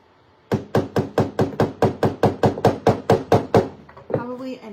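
A hammer strikes hard on DIY lakeside decor, about fifteen sharp evenly spaced blows in a quick steady rhythm, close and loud, followed by a voice speaking.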